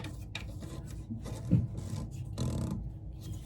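A toilet fill valve fitting being screwed on by hand under the tank, giving close, soft rasping and rubbing scrapes that swell and fade, with a brief louder knock partway through.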